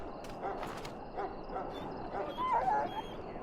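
Sick hound in Dragon Age Origins that swallowed darkspawn blood, whimpering and giving a few soft whiny yips, quiet and close.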